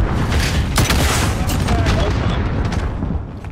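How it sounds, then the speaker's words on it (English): Sustained battle noise from Call of Duty: a dense wash of gunfire and heavy explosive booms, with a grenade blast among them, loud and continuous before easing slightly near the end. "I'm about to hurl a grenade, though."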